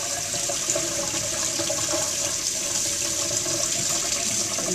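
Cold water runs steadily from a tap, rinsing a heated hockey stick blade to set a custom curve; a continuous close-up rush with no break and no voices.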